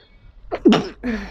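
A single sharp human sneeze bursts out close to the microphone indoors, preceded by a short inhale and followed by a brief breathy trailing sound.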